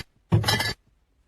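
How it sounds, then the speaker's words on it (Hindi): A glass liquor bottle gives one short, bright clink with a rattling glassy texture, close and fairly loud, then silence. "दारू की बोतल की आवाज"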